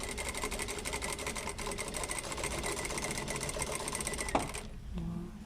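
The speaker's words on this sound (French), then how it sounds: "En fonction de la machine, observez l'écart pour piquer à 5 mm" A domestic sewing machine runs a continuous fast stitching line 5 mm from a fabric edge, a steady close mechanical whir that stops abruptly near the end with a brief clunk.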